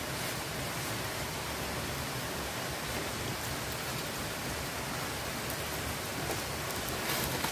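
Rain falls steadily beside a river where people are catfish fishing, making a dense, even hiss that lasts throughout with no talking.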